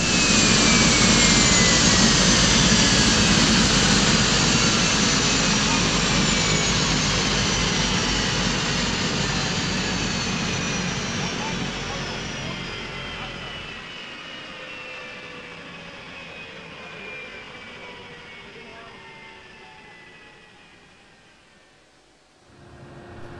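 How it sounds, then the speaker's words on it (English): Twin Otter turboprop turbines in a flight simulator game wind down from a loud, high whine, with tones sliding steadily lower and fading over about twenty seconds until nearly silent. "Now those turbines are winding down."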